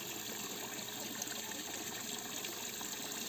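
Water pouring into a fish tank used to hold caught small fish: a steady, continuous hissing splash with no break or change over a few seconds, no voices.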